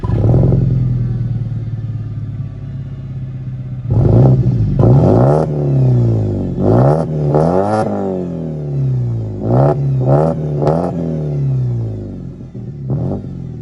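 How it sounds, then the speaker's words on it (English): A 2006 BMW 320i E90 with a muffler-deleted exhaust idles, then revs repeatedly in sharp, crisp rises and falls, loud and close. "So pretty tasteful exhaust note."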